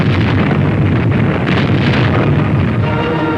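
Naval guns of the Dragoon task force off southern France in 1944 return fire on enemy coastal batteries, heard as a loud, continuous roaring rumble with no voices over it.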